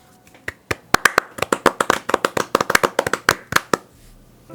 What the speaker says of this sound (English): May we all clap for Burger.